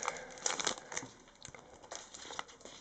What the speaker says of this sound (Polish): Saszetki ucinamy